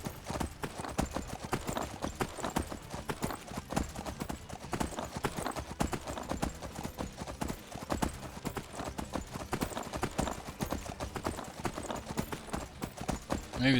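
Horses' hooves clop steadily and briskly in the video game Skyrim, a dense, even run of close hoofbeats that carries on without a break.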